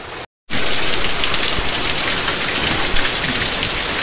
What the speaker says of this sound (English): I'm gonna have to talk a little louder to get over the rain